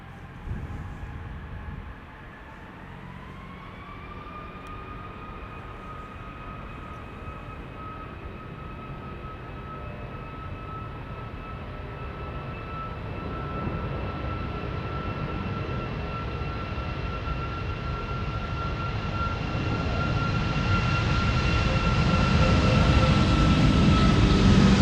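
An airliner's jet engines spool up for takeoff at Amsterdam Schiphol, steady whining tones rising in pitch then holding as a deepening roar builds louder toward the end.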